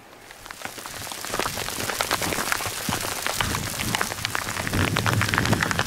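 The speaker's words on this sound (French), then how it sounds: "Superbe, il y a de la grêle en plus." Heavy rain mixed with hail pounds down during a mountain thunderstorm in the Authion massif, a dense, loud hiss scattered with sharp impacts that grows slightly stronger throughout, with no voices.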